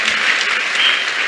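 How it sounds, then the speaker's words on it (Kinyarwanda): Loud, dense applause from a church congregation, a continuous roar of many hands clapping close by, with no voices standing out. "Reka twongere Imana amashyi menshi tuyishimire, tuyongere"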